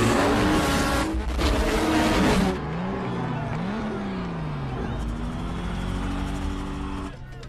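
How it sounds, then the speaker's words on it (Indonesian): Race cars in a street race film speeding on nitrous, loud engines roaring and whining through rising and falling pitch sweeps as they accelerate hard, with a deep continuous rumble throughout. "Dom menggunakan nitros tersembunyinya dan melesat mengalahkan Brian."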